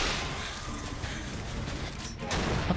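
Dense, sustained gunfire from Bioshock Infinite roars almost without pause, a steady barrage with a slightly louder burst near the end and no talk over it.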